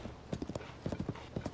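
Horse hooves clip-clop in a quick, even trotting rhythm in the video game Tears of the Kingdom, faint and close with a dozen or so crisp beats.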